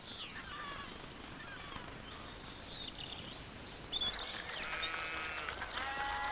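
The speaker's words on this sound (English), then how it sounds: "The cattle and sheep are Highland breeds" Highland breed sheep bleat in the open on the Isle of Mull in Scotland. The calls are faint and somewhat distant over a steady background, growing more frequent in the second half.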